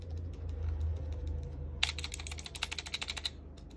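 Fingers type on a GMK67 minimal mechanical keyboard, first a muffled low thumping, then a quick run of crisp, close clicks and clacks in an uneven rhythm with no talk.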